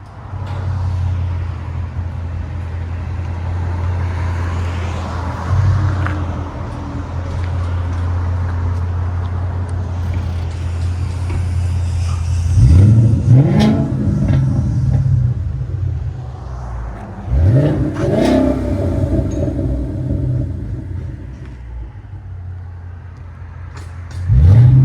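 A 2013 Ford Mustang GT with a 5.0L V8, X-pipe and Flowmaster 40 Series exhaust idles with a deep steady rumble, then barks through two loud revving bursts before settling back to idle.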